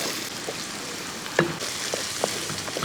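Tomatoes sautéing in a pan for a Kerala-style white chickpea curry give a steady soft sizzle, with a few brief clinks of stirring heard up close and no talk.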